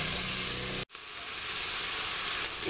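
Onion and garlic frying in a pan give a steady, dense sizzle that cuts out briefly near the start and then resumes, close and loud with no talking.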